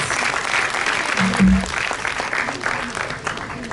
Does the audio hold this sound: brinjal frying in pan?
no